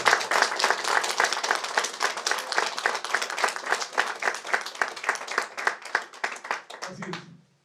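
Audience applause at a book presentation in Cusco, a steady dense clapping from a crowd lasting several seconds before tapering off, with a brief voice at the very end.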